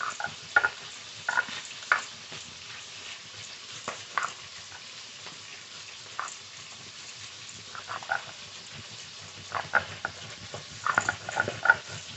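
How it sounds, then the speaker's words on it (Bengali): Ritha fish fries in a pan with a faint, even sizzle, broken by occasional sharp utensil clicks and scrapes at irregular intervals; quiet and close, no talking. "মাছ খুব ভালো করে ভেজে নিয়েছি"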